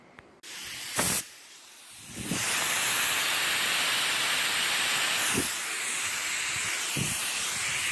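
A paint spray gun laying a light first dusting coat on a car, a steady loud hiss that starts after a couple of short bursts and runs continuously, briefly dipping before carrying on.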